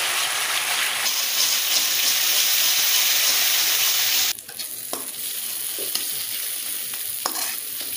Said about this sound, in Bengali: মশলা কু এমিতি ভালো ভাবে ভাজি দেবা।